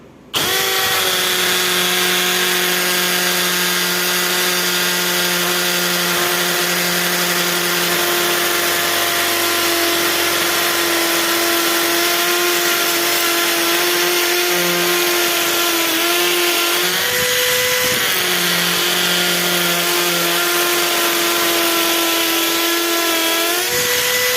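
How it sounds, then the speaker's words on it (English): A brushless cordless drill whines steadily and loudly as it bores through cement into brick wall, with a brief dip in motor pitch midway before grinding on. "once I broke through the cement wall, the cement portion, then it went to the brick."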